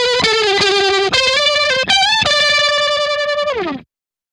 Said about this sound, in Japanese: いわゆるロータリーサウンドというやつですね。